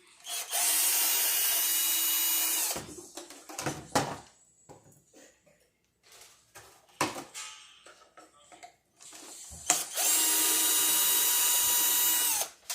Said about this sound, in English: the drill makes it so much easier